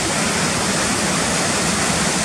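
Cotter Force waterfall pours over rocks in a loud, steady, unbroken roar of rushing water, heard up close with no voices.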